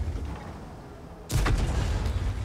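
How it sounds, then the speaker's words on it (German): A tank gun fires and strikes a Lorraine in World of Tanks: a single sudden heavy boom bursts out of quiet background hum, followed by a rumbling, crackling tail. "Ein Schuss, wunderbar getroffen auf die Lorraine da."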